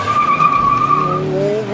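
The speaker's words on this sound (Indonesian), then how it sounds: "Wheel spin." Hyundai Santa Fe spinning its wheels at a hard launch with traction control off, a sustained tire squeal with engine roar close by, lasting under two seconds.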